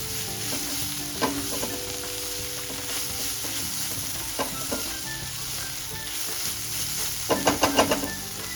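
Golma, a dried fish, being stir-fried in a pan for a Kolhapuri dish, giving a continuous close sizzle with scattered clinks and scrapes of a spatula against the pan, louder at the end, no talking.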